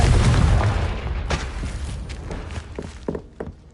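In the video game Hogwarts Legacy, a Confringo fire spell explodes with a loud booming burst that slowly fades. Lighter thumps and footstep-like knocks follow.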